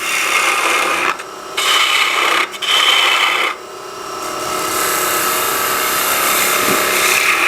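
A turning tool cutting a wooden box lid spinning on a lathe gives a rasping, scraping hiss in several bursts separated by short breaks, then a longer, steadier cut.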